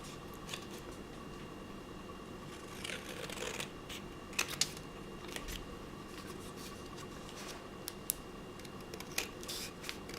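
Scissors snip through a paper craft tag in quiet, scattered cuts, a few sharp crisp clips standing out over faint rustling handling noise, close and soft.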